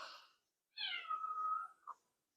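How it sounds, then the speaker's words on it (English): A cat meows in a kitchen where bread has just been baked. There is one short, faint earlier cry, then a clear drawn-out meow with a brief upturned tail note. No one speaks. "Apparently the cat wants some."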